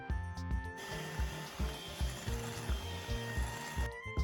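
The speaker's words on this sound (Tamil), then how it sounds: "ஸோ இதே போல் இந்த 5 மஞ்சள் கருவையும் நீங்கள் ஒவ்வொன்றா சேர்த்து பீட் பண்ணணும்." Five egg yolks for a cake are beaten with an electric mixer, a steady whirring motor with rhythmic scraping pulses against the bowl, fairly quiet and starting and stopping briefly at the ends.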